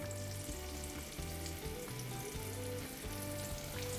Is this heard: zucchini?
yes